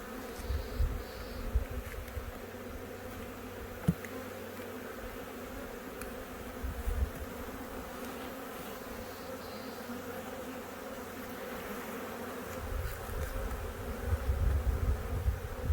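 Honeybees buzzing as a nuc is transferred into new hives outdoors: a continuous, calm drone of many bees with occasional louder passes and low bumps, no talking.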